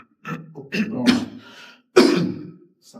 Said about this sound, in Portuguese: Essa tosse tá brava, também tô.